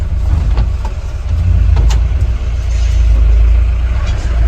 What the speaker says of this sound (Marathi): दादा तरी रिव्हर्सला मारते गाडी.